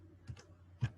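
Keys tapped on a computer keyboard: a few distinct quiet clicks, two close together then one firmer press, in a quiet room.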